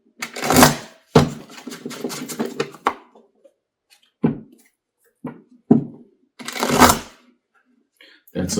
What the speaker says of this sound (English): It was just bad shuffling.